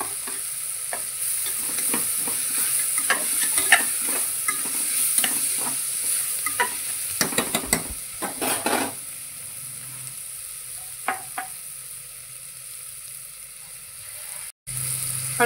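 Ginger garlic paste fries in a little oil over sautéed vegetables for a Marathi vegetable pulao. A metal spoon scrapes and stirs in a quick, uneven rhythm of strokes over a continuous close sizzle, and nobody speaks.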